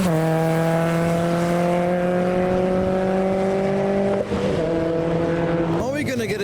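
A modified car drives past after a car show in heavy rain, its engine note holding a steady drone before dropping and shifting as it passes, with a rising rev at the end and constant rain hiss underneath.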